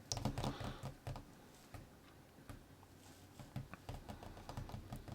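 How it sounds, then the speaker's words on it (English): Quiet, close typing on an iPad keyboard in the Notes app: irregular clusters of light key taps with brief pauses between bursts. "we start a new note and we just type whatever"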